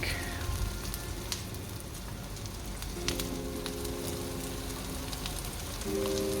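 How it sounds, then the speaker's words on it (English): Onion sizzling in a pan for Filipino adobo, sautéed slowly over low heat: a steady, close, even frying crackle with faint kitchen clinks over it. "we are going to saute all the spices, starting with onion"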